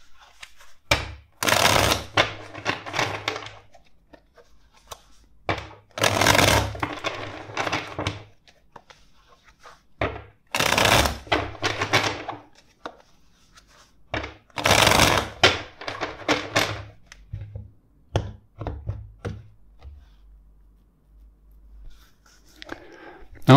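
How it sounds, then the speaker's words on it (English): A deck of tarot cards is shuffled in several close, crisp bursts of riffling and sliding, each a second or two long, separated by short quiet pauses. "first let's shuffle the cards."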